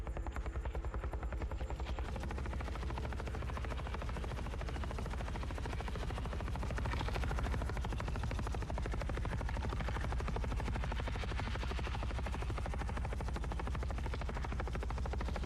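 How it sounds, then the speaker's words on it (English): Helicopter in the video game The Forever Winter, a loud, steady rotor thump and turbine whine that runs unbroken for the whole clip, alone without talk. "Yeah, new sound for the chopper. It sounds really good."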